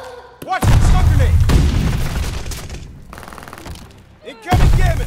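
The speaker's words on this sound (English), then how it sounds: "Watch the stun grenade!" A stun grenade goes off in a Call of Duty: Vanguard multiplayer match, producing heavy close booms with a ringing tail, mixed with gunfire and shouted in-game voice lines.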